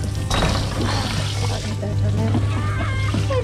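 Water leaks from a garden hose nozzle in a steady pouring trickle, close, with faint bird or fowl calls in the background.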